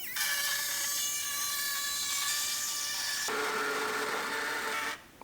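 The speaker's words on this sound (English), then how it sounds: "Now we'll cut out the pieces that were all hacked up." A power cutting tool slices through the damaged body metal of a Lexus RX330, a loud, steady, high-pitched whine that shifts tone midway and then cuts off near the end, close by.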